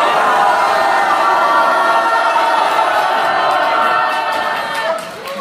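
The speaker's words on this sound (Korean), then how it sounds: "제가 평화의 함성 시작하면 의원회관이 흔들릴 정도로 한번 해보겠습니까?" A packed crowd in the National Assembly members' hall in Seoul lets out a loud, sustained shout for peace at a farewell report meeting. Massed voices roar continuously and then taper off near the end.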